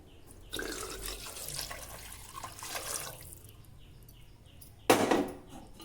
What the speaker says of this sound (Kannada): ನಾನು ಇನ್ನೊಂದು ಗ್ಲಾಸ್ ನೀರು ಹಾಕ್ತೀನಿ ಫ್ರೆಂಡ್ಸ್